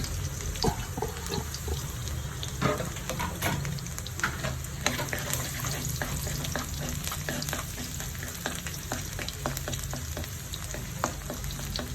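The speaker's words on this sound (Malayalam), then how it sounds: "സൺഫ്ലവർ ഓയിൽ ഒഴിച്ചു കൊടുക്കാം. കുറച്ച് വെളുത്തുള്ളി ഇട്ട് കൊടുക്കാം." Garlic frying in sunflower oil for wheat noodles: a loud, continuous close sizzle with bright crackling spatter and occasional stirring scrapes throughout, no voices.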